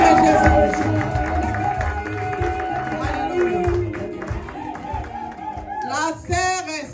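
A church congregation acclaims and applauds, with a dense, steady crowd roar of clapping and cheering throughout, voices mixed into the din, ending in a few brighter shouted acclamations.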